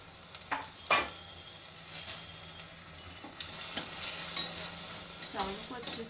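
Broken rice roasting in hot ghee in a Peigon stainless steel cooker, a low sizzle under repeated clinks and scrapes of a spoon stirring against the metal.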